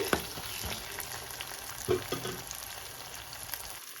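Garlic frying in hot oil in a pan crackles with a soft steady sizzle, broken by a few scraping stirs and clinks of a utensil, fairly quiet and close, with no voices.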